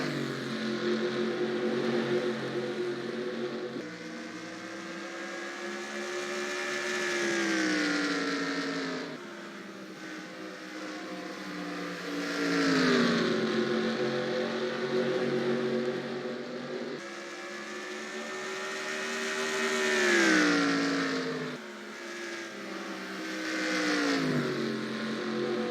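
Stock race cars roar around Dover in the NASCAR Racing 2003 video game, engines droning continuously and loud with repeated rising and falling pitch sweeps as the pack passes and accelerates.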